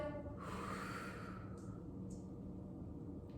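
One soft, drawn-out exhale during a press-out exercise, followed by two brief faint breath sounds in a quiet room.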